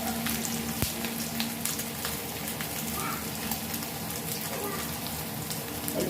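Flour-coated pomfret fish fry in an iron tawa, giving a continuous quiet sizzle with scattered crackles and pops that stays even for several seconds.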